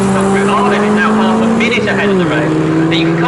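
Morgan race cars in a Morgan Challenge race at Snetterton pass on track, a loud sustained engine drone with a falling pitch as the leaders go by, under commentary.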